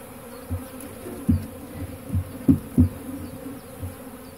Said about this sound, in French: j'ai des abeilles partout sur les pieds.